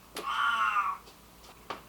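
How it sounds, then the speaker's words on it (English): A domestic cat gives one drawn-out, fairly loud meow close by, followed by a couple of short, faint chirps, with no talking. "I know my cat was talking a lot"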